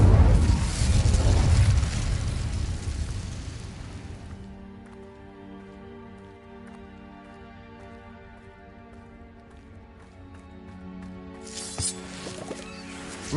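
A burst of fire erupts loud and close as the Incendio spell is cast in Hogwarts Legacy, a roaring blast that fades after a few seconds into a quiet tonal ambient drone, followed later by a shorter flare of noise.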